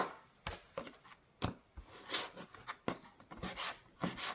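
A knife cuts through raw meat or fish on a board in quiet, irregular chops and taps, close by, with short gaps between strokes.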